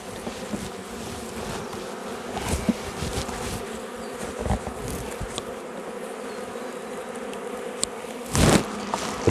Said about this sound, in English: So they're getting a bit cranky.